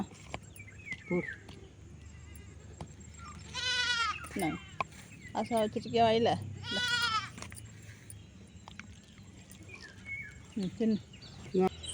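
Goats bleat repeatedly on a farm, several loud, wavering cries at close range, with someone talking in between and some faint bird calls.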